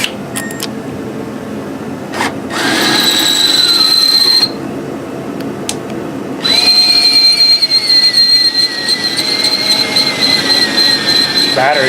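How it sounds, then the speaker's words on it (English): A power drill whines at high pitch in two sustained bursts, drilling out a bolt on a Jeep Grand Cherokee hatch, grinding into metal with a gritty edge and a short pause between. "now we got to drill it out."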